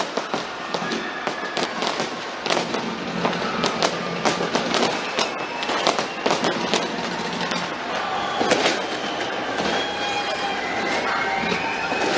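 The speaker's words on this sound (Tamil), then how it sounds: "ஆக்லாந்தில் வானுயர கோபுரத்தில் வண்ண விளக்குகள் ஜொலிக்க மக்கள் பட்டாசு வெடித்து தங்கள் மகிழ்ச்சியை வெளிப்படுத்தினர்" Rapid, dense bursts of New Year firework explosions over Auckland, New Zealand, crackling and popping continuously at close range with sharp loud bangs amid a festive crowd murmur.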